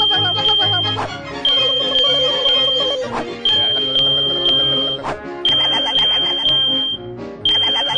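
A home smoke alarm sounds its test beep: a piercing high tone repeating in quick bursts, loud and close, with music running underneath.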